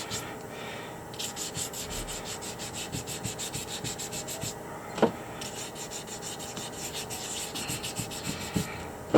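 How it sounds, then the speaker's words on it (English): Fine 320-grit sandpaper, folded into thirds, rubs over small fossil echinoids in steady back-and-forth strokes, a close, dry scratching with short pauses and an occasional sharper scrape. "320 grit sandpaper, little small pieces. I fold that one into thirds. I'm just going to start sanding"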